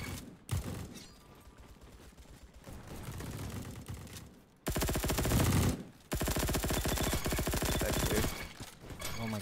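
Rapid, loud sustained automatic fire from the MGX in the video game Bad Business, continuous dense bursts with a brief break midway.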